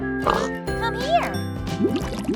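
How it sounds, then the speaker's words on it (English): A toy pig sound plays brief electronic oinks and grunts over a jingly background tune, close and moderately loud. "Pig."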